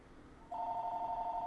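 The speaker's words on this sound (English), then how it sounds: "Oh, we got a phone call." A telephone starts ringing for an incoming call, a steady electronic tone that begins abruptly and holds, fairly faint and alone.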